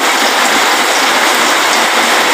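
Heavy rain pours down in a dense, steady, loud hiss with no voices or other sounds over it.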